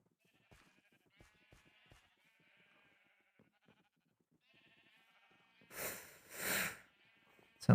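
Sheep in the video game Minecraft, heard as a couple of loud, close bleats late in the clip after a stretch of faint, scattered ticks and tones.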